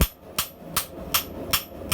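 Hand hammering carbon steel from a truck leaf spring into a cleaver: six sharp, ringing hammer blows in a steady rhythm about a third of a second apart, close and loud, with no talking.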